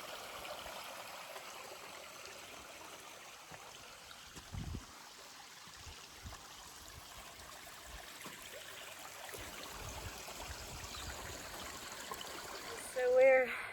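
Creek flowing beside a hiking trail in Frozen Head State Park, a soft steady trickle and wash of water heard from nearby, with a brief thump or two and a short bird chirp near the end.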